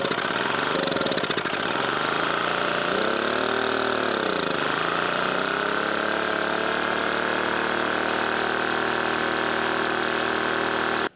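A Honda EM650 generator that sat unused for 21 years runs with its choke on, starting with uneven sputtering and surging before settling into a loud, steady, buzzing engine drone close by.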